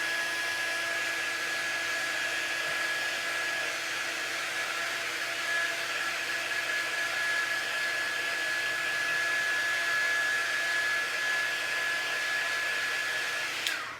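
Heat tool blowing steadily for about fourteen seconds to heat set a Dollar Tree flower pouch magnetic banner craft project, a continuous loud airy whoosh with a faint steady whine, cutting off at the end.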